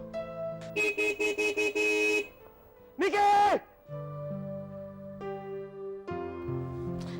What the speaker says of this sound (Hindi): कब से हॉर्न बजाया जा रहा है